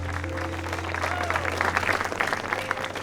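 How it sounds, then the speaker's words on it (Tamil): An audience at a Tamil stage event gives loud, continuous applause, with a dense wash of clapping over a steady electrical hum and some faint crowd noise. "கைத்தட்டு கொடுக்கலாம்."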